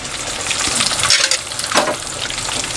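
Loud, continuous sizzling of chicken drumsticks frying in hot oil, with a couple of louder bursts and stirring noises partway through.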